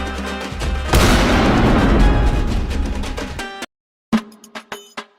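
A loud booming cartoon firecracker blast erupts and rumbles for a few seconds, cuts to silence, then a few sharp pops and clatters follow.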